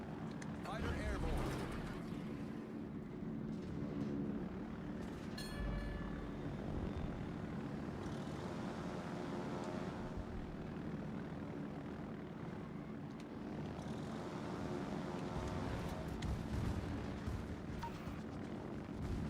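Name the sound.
fighter aircraft flying in World of Warships video game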